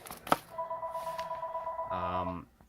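A telephone rings in a room, with a sustained electronic tone followed by a buzzy, warbling ring burst, close and moderately loud.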